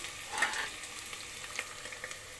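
Coriander and curry leaves frying in hot oil in a pan, a dense steady crackling sizzle with a brief louder burst early on, fairly close.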